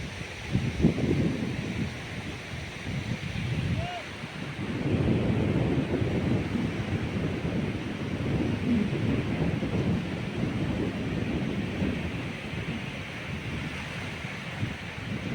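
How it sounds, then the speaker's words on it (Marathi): Low, roaring surf of waves washing onto Badam Beach at Alibag in repeated surges, with wind buffeting the microphone throughout. "हा बघा समुद्र आणि हे पहा समुद्राच्या लाटा"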